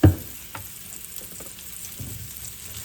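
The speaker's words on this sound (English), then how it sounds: "I'm gonna scrape the bottom of the pan and deglaze it at the same time" Mushrooms cooking in oil in a hot pan, a steady sizzle and frying hiss with a sharp knock at the start and soft scraping of the pan bottom during deglazing.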